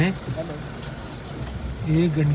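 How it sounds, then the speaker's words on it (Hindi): Road traffic on a congested route between Chandigarh and Kedarnath, with a steady low engine hum of cars and trucks idling or creeping along, while a person talks over the top throughout. "ट्रैफिक चारों तरफ वैसा का वैसा ही है"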